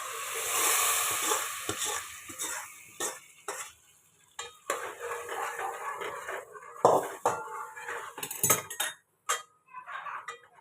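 Roasted chutney being stirred into mutton curry in a pot, with scraping and clinking of a spoon against metal in bursts and pauses, a light sizzle underneath, close and moderately loud with no talking.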